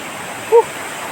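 A waterfall rushes in a steady, loud, broadband roar, with a brief higher tone sounding once partway through.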